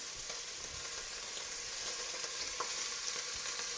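Beef short ribs sear fat side down in a hot pan, giving a steady, dense sizzle and crackle of frying fat that holds loud and close throughout, with no voices.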